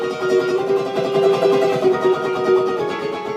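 Fingernail tops of the index finger and thumb strum a ukulele in quick, steady chords, each stroke bright and slightly harsh with a crisp attack, loud and close for a few seconds.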